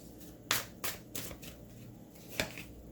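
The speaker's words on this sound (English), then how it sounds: "We'll get a few cards out and then we'll talk about it." Tarot cards being shuffled by hand, several quick riffling bursts and soft slaps spaced irregularly, close and fairly quiet with no talking.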